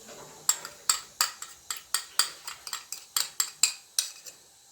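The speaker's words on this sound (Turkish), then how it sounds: "malzemelerimizi bir güzel karıştıracağım" Sugar and egg stirred into the dough ingredients for a hand-rolled potato tray börek, a steady run of about fifteen sharp, rhythmic scrapes and clinks against a bowl, close and alone.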